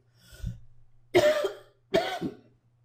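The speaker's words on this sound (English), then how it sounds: "I got a little coughing to do here." Three separate coughs, a faint one followed by two loud, close bursts, with a low steady hum underneath and quiet between them.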